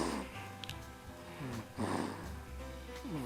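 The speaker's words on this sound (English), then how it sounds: "I can hear him snoring" A baby boy snoring close by, a few soft raspy breaths with a louder snort-like inhale partway through, with a faint low hum in the background.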